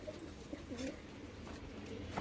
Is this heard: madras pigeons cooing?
yes